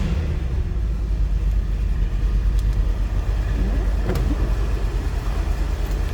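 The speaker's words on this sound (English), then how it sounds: "Great sounding car." A 1963 Chevrolet Corvette Split-Window Coupe idles steadily with a deep, even rumble, close and continuous throughout, with no voices over it.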